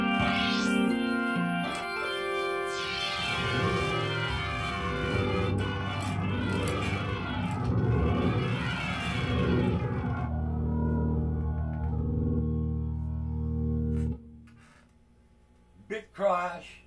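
Sustained Roland VR-09 organ chords with a metallic, clangorous ring-modulated tone, shifting pitch over time, played alone before fading out; a brief voice follows at the end.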